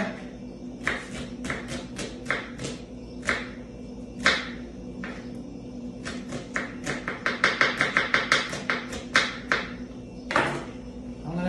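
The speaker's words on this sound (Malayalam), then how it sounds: "ഓക്കെ അപ്പോൾ ഒന്ന് കണ്ടോളിട്ടോ സവാള കട്ടിങ്ങാണ്" A knife chops onions on a cutting board in a home kitchen, with irregular crisp taps that speed into a quick rhythmic run near the end. The cutting sounds close, over a faint steady background hum.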